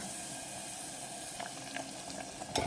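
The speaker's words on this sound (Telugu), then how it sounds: "ఒక చిన్న గ్లాసు వాటర్ పోసేసుకుని ఉడికించుకుంటే" Water splashes and sizzles steadily in a pan of fish korma curry with tomatoes, with a brief louder slosh near the end as liquid hits hot food.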